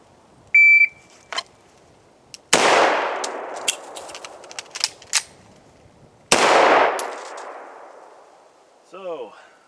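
Two sharp, loud gunshots ring out at a shooting range, spaced a few seconds apart, each trailing off in a long echo, preceded by an electronic timer beep and followed by faint clicks and handling noises.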